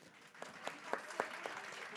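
Thin, scattered clapping from a small audience at a French round-table on recruiting careers, offered as birthday applause for Stéphanie: a handful of distinct, spaced-out claps against a quiet room, fairly faint and unenthusiastic.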